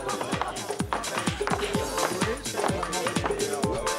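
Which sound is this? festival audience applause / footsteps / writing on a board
footsteps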